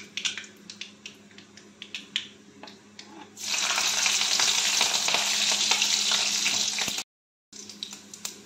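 Chillies hit hot mustard oil and burst into a loud, broad, continuous sizzle after a few light kitchen clicks, then the sound cuts off abruptly and quieter frying resumes.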